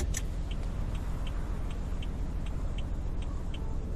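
Hazard lights on a car in the TruckPlanet video game ticking at an even, regular pace over a low steady engine idle, close and without voices.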